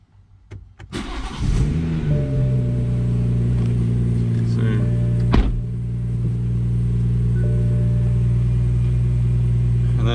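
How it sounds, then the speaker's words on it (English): A 2016 BMW 340i M Sport with the B58 engine starts up: a short cranking burst and catch, then a rev flare settling into a steady, close idle rumble that holds throughout. "so now let's start up the car."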